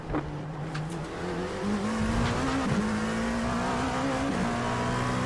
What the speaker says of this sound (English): You hear the floor hitting the ground.